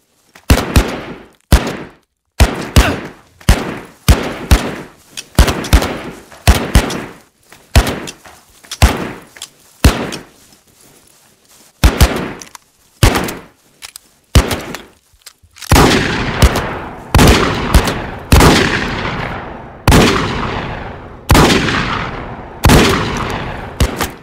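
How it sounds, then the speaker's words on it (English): Gunshots crack through a Wild West Online gunfight, firing as sharp single reports in bursts and rapid volleys, loud and close, with brief quiet gaps and then a dense stretch of fire near the end. "let's have a gunfight"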